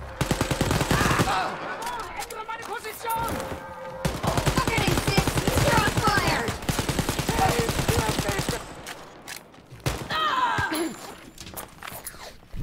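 Gunfire from the shooter Wolfenstein: Youngblood: rapid machine-gun bursts and fusillades rattle almost continuously, pausing briefly, with someone speaking over parts of the fighting.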